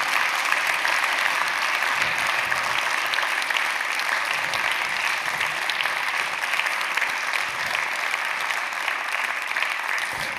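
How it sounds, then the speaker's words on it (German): An audience at the Obermayer Awards ceremony claps steadily for a group photo of honorees, a continuous, even roar of many hands lasting about ten seconds. "Und jetzt gibt es das Familienfoto und den Applaus von Ihnen."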